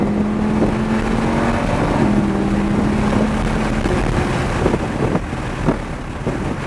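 A GT4-class sports car accelerates around the Sonoma race track, its engine a steady, loud droning whine with shifting pitch and wind rush, heard from inside the car with no talking.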